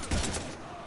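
A short burst of rapid gunfire aimed at husks in Mass Effect 3, loud and close, fading within a second.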